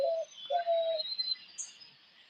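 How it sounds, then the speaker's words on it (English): A dove gives a few soft cooing calls outdoors, with brief bird chirps around it, moderately close against a quiet background. "That call that you hear is the dove."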